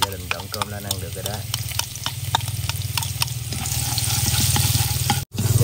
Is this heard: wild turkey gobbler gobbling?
no